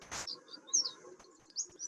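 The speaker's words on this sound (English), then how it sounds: "What you're hearing in the background is goldfinches." Small songbirds, goldfinches, chirp and twitter in a marshland, a few short bright calls and one brief fluttering burst over a faint outdoor background.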